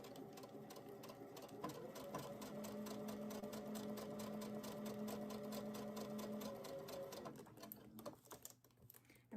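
Sewing machine running a steady piecing stitch with a quarter-inch foot, a fast even needle patter with a sustained motor hum that carries on for several seconds before slowing and stopping near the end.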